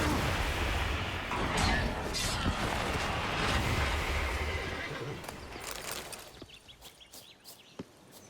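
A horse in The Witcher 3: Blood and Wine neighs loudly over a dense game soundscape of clattering combat and hooves, which then drops away to quieter scattered clicks.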